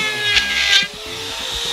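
An InnTech ETN-370 trimmer routing a hole in wood gives a close, high whine with cutting bursts, then eases to a steadier, quieter hum partway through.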